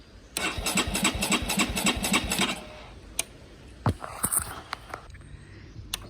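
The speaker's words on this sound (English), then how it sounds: "Everything is on this engine, it should start. Let's see if it does." A 2021 Honda CB125R motorcycle engine, rebuilt and with its ignition coil disconnected, cranks over with rapid rhythmic chugging for about two seconds, then stops, followed by a few scattered clicks and clunks.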